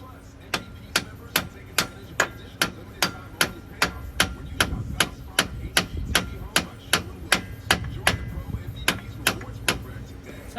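A hammer taps a kingpin into a Freightliner truck's axle while air ride is fitted. About twenty sharp, evenly spaced metal strikes ring out close by, with a faint low hum underneath.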